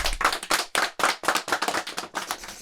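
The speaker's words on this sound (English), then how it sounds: "Round of applause for Greg." A few podcast hosts clap for guest Greg Olsen, a quick burst of close, sharp handclaps in an irregular patter that lasts a couple of seconds with no talking.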